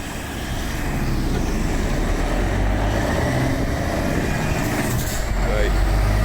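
A heavy truck tractor unit rumbles past at a roundabout, a loud continuous engine roar rising slightly toward the end, with people talking over it.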